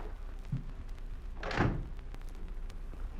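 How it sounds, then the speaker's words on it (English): A single door thuds shut in an audio drama scene, a short, muffled knock-like impact standing out against a quiet room tone with no talking. "Be sure to lock the door, Comrade Brady."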